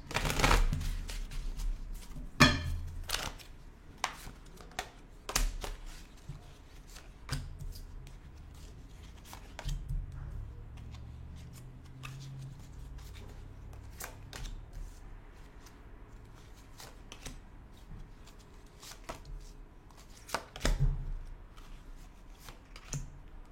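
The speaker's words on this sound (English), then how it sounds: "I'm going to be quiet while I shuffle and pull the Celtic Cross." Tarot cards shuffled and dealt for a Celtic Cross spread, a steady run of soft riffling and crisp slaps and flicks, close and fairly quiet, with no talking.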